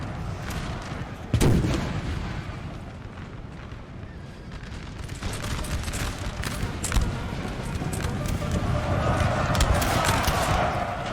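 Artillery booms in a Napoleon Total War 4v4 battle: one sharp nearby blast, then repeated duller distant shots over a constant rumbling battlefield din.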